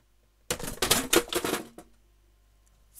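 A computer keyboard falls off a desk, a short burst of clattering plastic knocks and rattles lasting about a second, close and loud, then quiet.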